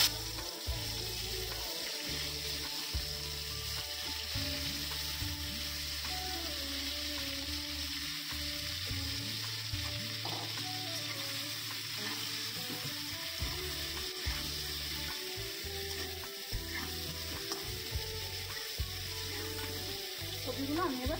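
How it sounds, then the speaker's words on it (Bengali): Cauliflower florets coated with turmeric and salt fry in a pan, producing a continuous close sizzle with a low background hum, fairly quiet and steady, with no talking. "কপিগুলো আমি এবার ভেজে নেব।"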